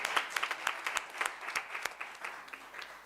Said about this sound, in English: Can we give her another round of applause?